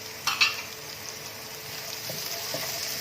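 Finely chopped capsicum hits a hot pan for Chicken Manchurian, giving a soft steady sizzle with a brief sharp clatter near the start and light stirring scrapes after, close and with no talk.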